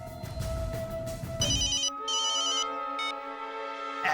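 A bright electronic phone ringtone plays in repeating melodic bursts, loud and close, after a moment of muffled background noise.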